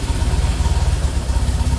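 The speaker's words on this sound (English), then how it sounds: "when we start the engine" Classic Fiat 500 engine running just after starting, a loud, close, rhythmic low chugging idle with a steady pulsing beat and no talk.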